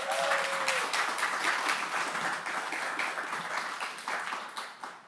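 Audience at a startup demo day applauding the selected companies, a full sustained round of clapping that carries on for several seconds and thins slightly toward the end.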